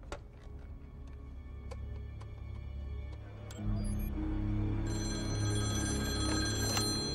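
A telephone bell rings in repeated bursts in a tense film scene, first as sharp separate rings, then as a sustained, louder ringing over a low hum, with no talk.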